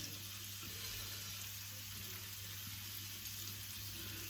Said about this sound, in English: And then I'm going to add in my chopped red onion.